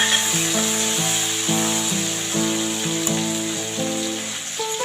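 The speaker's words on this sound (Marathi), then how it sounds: "मग नंतर हिरवी मिरची आणि लसूण ठेचलेली घालायची. चांगली परतवून घ्यायची." Green chili and crushed garlic frying in a pan with cumin for a Maharashtrian chapati chivda, giving a steady close sizzle with soft scraping and stirring, no voices.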